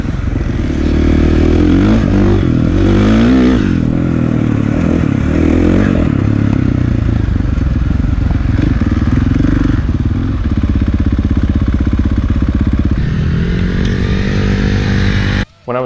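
A 2016 KTM 450 XC-F dirt bike, a 450 four-stroke, ridden hard with a loud, steady engine roar that rises and falls through revs and gear changes, close to the microphone for the whole stretch before cutting off abruptly at the end.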